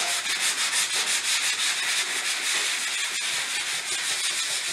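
A drywall patch over a door knob hole is sanded by hand, with rhythmic rasping strokes of sandpaper on joint compound, close and fairly loud with no talk.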